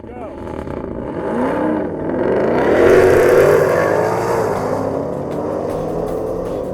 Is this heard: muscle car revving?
yes